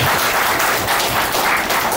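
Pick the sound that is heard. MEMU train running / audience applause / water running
audience applause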